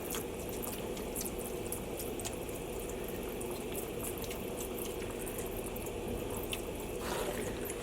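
Yellow dye stock solution at 1% strength, Jacquard Bright Yellow, squirted steadily over yarn, giving a continuous wet hiss and splatter with faint drips throughout, no voices.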